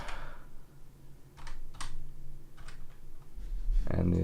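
Soft, irregular keystrokes tap on a computer keyboard in a music-making session, a few scattered clicks over a low background hum, ending in a louder burst of instrumental sound.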